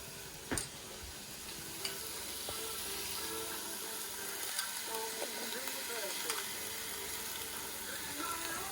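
About six garlic cloves sizzling in a hot pan in a home kitchen, a soft, steady frying hiss broken by a few clinks and scrapes of stirring.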